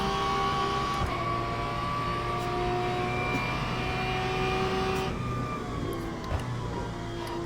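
Race car engine in a racing sim game (Le Mans Ultimate or Assetto Corsa Evo) holding a steady, loud tonal drone through a lap, with pitch shifting as it changes gear around five seconds; no talking.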